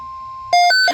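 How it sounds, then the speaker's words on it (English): A NOAA Weather Radio emergency alert, opening with a steady electronic tone, then a sequence of short, loud, pure beeps stepping between pitches. "This is the NOAA Weather Radio."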